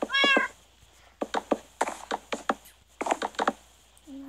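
Cats meow in a video game, a drawn-out cry first, then a run of close clicking taps and knocks, and a short mew at the end.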